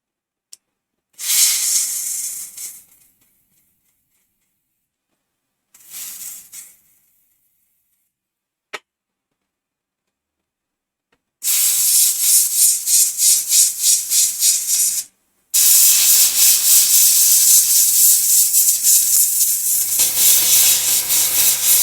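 Airbrush compressor running quietly, heard as short hissing bursts of air early on, then longer steady hissing spray passes from a new airbrush, fairly close and without talk.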